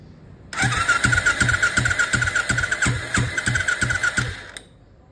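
A motorcycle that had gone cold and would not start is power-started: a close, rhythmic cranking churn with regular pulses lasts about four seconds, then stops without catching.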